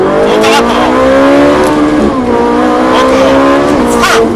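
A Ferrari 458 Italia accelerates hard on the Montlhéry race track, its engine screaming loud and close as the pitch climbs through the gears, with brief dips at shifts.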